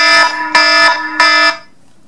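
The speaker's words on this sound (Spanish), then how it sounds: "Mi mañana empieza a las 8:25 de la mañana cuando suena mi despertador" A morning alarm clock ringing in three loud, close electronic bursts, each a shrill, steady buzzing tone, before it falls silent.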